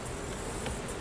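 Honey bees buzz loudly and agitatedly around an open hive during a November inspection, a dense, close, continuous drone.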